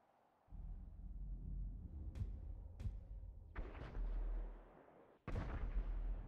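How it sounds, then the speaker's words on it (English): Booming explosions and sharp gunshot cracks from the video game GTA Online, several loud blasts with rumbling tails, close and intense, with no talking. "Oh, I hear explosions."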